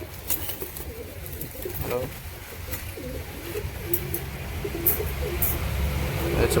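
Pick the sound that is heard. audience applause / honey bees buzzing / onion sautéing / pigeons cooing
pigeons cooing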